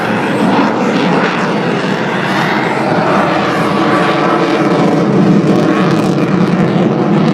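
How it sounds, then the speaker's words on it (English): An F-18 Super Hornet jet roars overhead at a beachside air show, a loud, continuous engine rumble with shifting pitch as it maneuvers, close and powerful throughout. "Incredible maneuverability of the F-18 Super Hornet."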